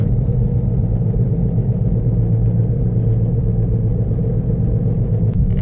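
Inside a moving Maruti Swift Dzire with a worn wheel bearing, a constant low rumbling grind drones loudly and evenly beneath the road noise, unbroken from start to finish.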